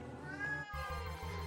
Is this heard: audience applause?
no